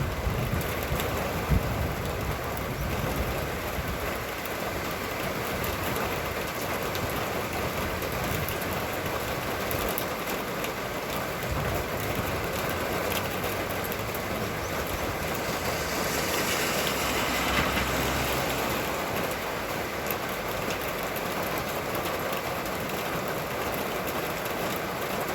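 Wind and rain on a blustery, rainy day outdoors make a steady broadband rush that holds constant for the whole stretch, with a faint swell partway through and no talking.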